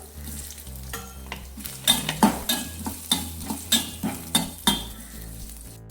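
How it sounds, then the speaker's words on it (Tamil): Ginger sautéing in oil in a kadai, stirred steadily: a continuous sizzle with regular scraping stir strokes roughly every half second, close and fairly loud, no voices. "எண்ணெயில் இஞ்சி ஆட் பண்ணி நல்லா வதக்கிக்கலாம்"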